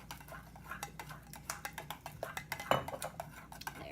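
Metal utensil stirring fettuccine in a pot, a steady run of light clinks and scrapes against the pot's sides, close and fairly quiet, with no talking.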